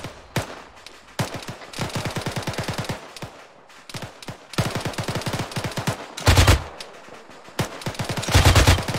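A machine gun in the video game ArmA 3 fires long rapid bursts at close range, broken by short pauses, with a few heavier, louder blasts near the end.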